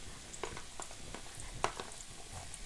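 Garlic frying in a pan for pork adobo, stirred with a few soft scraping clicks over a low, steady sizzle; quiet and close, with no talk.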